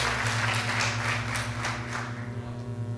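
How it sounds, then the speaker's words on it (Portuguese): Church congregation applauding the Lord, a dense steady wash of many hands clapping over a sustained low musical hum, with a few louder claps standing out. "Pode aplaudir ao Senhor, pode louvar ao Senhor."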